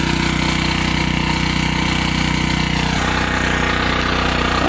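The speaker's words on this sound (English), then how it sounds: "Sounds like Camp Cook got the generator going" A generator runs at a hunting cabin camp with a steady, loud mechanical drone and a regular engine throb, close by and continuous, with a slight shift in tone partway through and no talk.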